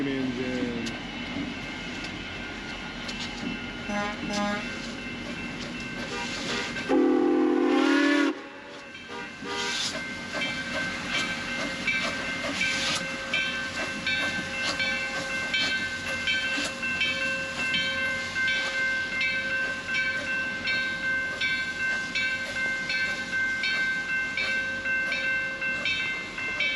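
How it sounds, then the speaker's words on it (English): A Grand Canyon Railway steam locomotive's loud whistle blasts once amid steady rumbling, hissing train noise in Williams, Arizona, with chuffing continuing after the whistle fades. "the sound of the whistle still echoes across the pines."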